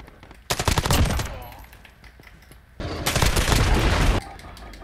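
Two long, rapid bursts of automatic gunfire from a Holger machine gun in the video game Modern Warfare, loud and close, separated by a short pause with faint background game sounds.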